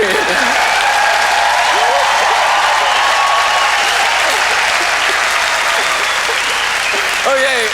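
A close, loud audience claps steadily as a dense, continuous roar, with voices calling and chattering mixed into the clapping throughout.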